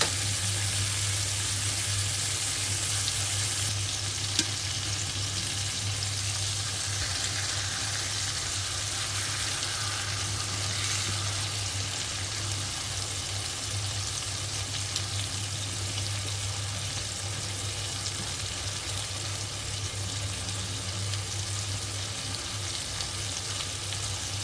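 Lamb chops browning in a frying pan give a steady, close sizzle that runs unbroken throughout with no talking, broad crackling hiss over a constant low hum.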